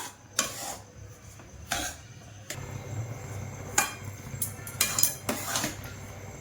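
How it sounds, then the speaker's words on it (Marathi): Semolina (rava) roasting in a pan while a metal spoon scrapes and clanks against it in irregular bursts, with a low sizzling hum between the strokes. "अजून 5 मिनिटं भाजूया रव्याला"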